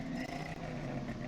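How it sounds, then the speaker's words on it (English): A 1965 Volkswagen Beetle engine runs loud and close, a steady low rumble with a continuous broadband drone and no clear rise or break. "let's start this car up."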